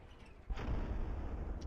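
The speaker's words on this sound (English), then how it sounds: "there's a massive blast when this thing fires" A small 500mm cannon fires in the naval combat game From the Depths, giving one sudden deep boom that swells into a sustained low rumble, with no voices over it.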